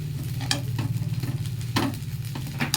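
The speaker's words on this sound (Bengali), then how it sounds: "নারকেলটা গুড় দিয়ে ভাজা করছি" Grated coconut fries with jaggery in a pan for dudh puli, with repeated scraping stir strokes over a soft continuous sizzle and a low hum, close by.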